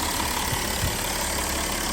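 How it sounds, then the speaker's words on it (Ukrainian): A Volkswagen Touareg 4Motion 3.0 engine idles steadily up close, an even low rumble with a faint rhythmic knock throughout. "Також мотор працює чітко, рівненько, ніяких проблем немає."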